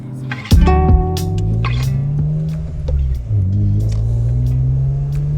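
BMW E46 M3 engine revving hard with a raspy exhaust, one loud blip followed by sustained revs that rise and fall, heard up close during a drive.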